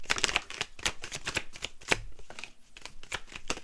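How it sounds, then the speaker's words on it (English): Rapid riffle-shuffling of tarot cards, bursts of crisp flicking and snapping repeated in quick succession, close up with no talking. "Let's shuffle those back."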